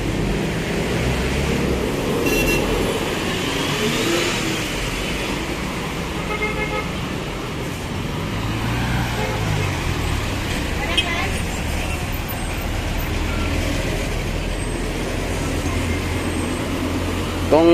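Busy street traffic in Davao, Philippines, with taxis and motorcycles weaving through, a steady roar of engines and occasional horn toots, heard continuously along a boulevard with people talking nearby.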